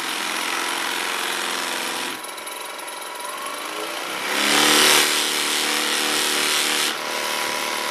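A rotary buffer spins at about 1500 while acrylic is buffed with a very fine compound. It gives a steady, close, broadband whirring hum with a faint tonal whine, dipping briefly and then swelling louder as the piece is pressed against the wheel.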